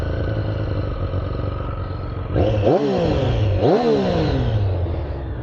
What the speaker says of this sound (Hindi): वो स्टार्ट करने से एग्जॉस्ट देखो